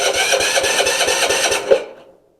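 An MTD lawn tractor engine cranks without starter fluid, a steady chugging rhythm of about eight evenly spaced beats that stops abruptly, close and loud with no voices.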